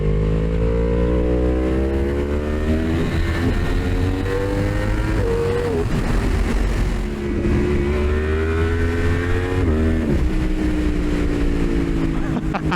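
A 2024 Yamaha R1 sport motorcycle accelerates hard on an open road, its engine note climbing steadily through the revs with gear changes around the middle and near the end, loud and continuous throughout.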